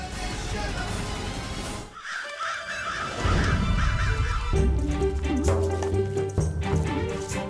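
A flock of crows caws in a mythological TV drama, sounding as a run of harsh repeated calls fairly near, over background music and ambient noise.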